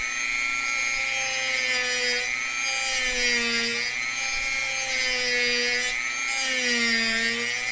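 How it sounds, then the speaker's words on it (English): A Dremel rotary tool with a round bit grinds steadily and loudly for several seconds, its whining pitch dipping and recovering as it bears into the part during a quadcopter build, with no talking. "Dremel warning."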